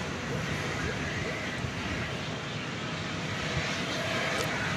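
Airliners roll and fly at DFW Airport at night, a faint, distant, steady engine rumble spread across the air with soft swells, heard from far off with low background noise.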